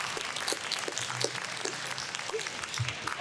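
A crowd at a Nostalgia Con Anaheim convention panel applauds in a steady, moderately loud wash of clapping with faint murmurs and scattered voices underneath.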